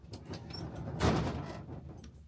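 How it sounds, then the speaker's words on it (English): A door in an art studio swings and shuts with a soft thud partway through, amid faint rustling and movement in a quiet room. "let me shut the door"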